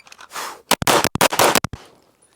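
Six rapid shots from a Walther PDP Compact pistol fired at a target, loud sharp cracks in a quick string, then faint ringing decay.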